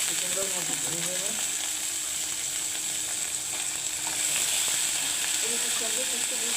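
Sweet pumpkin frying in a pan for a breakfast alongside red flour rotis, giving a steady, close hiss of sizzling oil with faint stirring scrapes and brief background voices.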